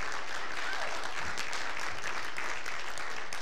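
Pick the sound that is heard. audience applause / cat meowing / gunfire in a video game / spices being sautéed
audience applause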